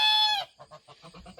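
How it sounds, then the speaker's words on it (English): A goose on a garden homestead in eastern North Carolina gives one long loud honk, then a quick run of softer clucking honks close by. "That's the sound of a goose"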